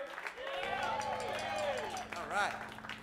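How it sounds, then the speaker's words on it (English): A crowd claps and cheers for guitarist Roberto Morbioli at a live show at The Fallout Shelter, the applause running under an emcee's voice and a sustained stage tone. "Give them a round of applause, everybody."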